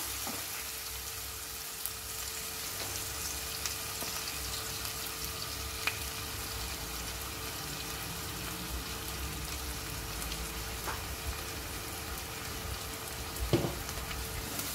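Onion and Malvani masala frying in oil, a steady, even sizzle with faint stirring scrapes and an occasional clink near the end, no speech over it.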